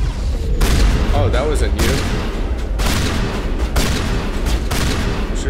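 Shotgun fire in Mass Effect Legendary Edition combat: several loud sharp blasts spaced about a second apart over a dense battle mix, with a player speaking between shots.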